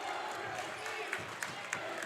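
Crowd noise at a high school boys' basketball region championship, a broad steady roar of fans with scattered claps and cheers rising for Lawrence County, with a commentator voice faintly mixed in.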